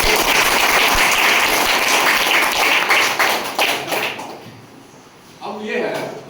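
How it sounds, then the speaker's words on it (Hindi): Students clapping in a secondary school classroom in Bihar, a loud run of mixed claps for about four seconds that then fades, with a voice talking over part of it. "ताली बजाओ यहाँ से।"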